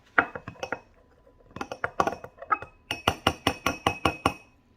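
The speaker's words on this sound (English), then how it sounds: "Here comes the hard part. Mixing it together." Ingredients are mixed together in a container in a quick run of clinking, knocking strikes, sharp and close, with short pauses between bursts and a steady rapid series at the end; no voices.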